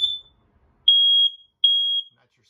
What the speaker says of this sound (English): you do have an LP detector. If that goes off, this is what it sounds like.